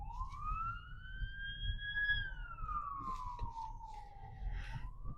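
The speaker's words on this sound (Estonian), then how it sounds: "Oi, kiirabiauto tuleb tagant." An ambulance siren wails in a single long, rising and falling sweep as it comes up behind a car on the road, loud and steady over a low traffic rumble.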